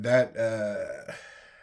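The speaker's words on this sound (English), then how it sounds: "sorry, I'm burping a lot" A man lets out a burp, a drawn-out voiced belch that rises and then trails off, with a shorter, fainter one following near the close mic.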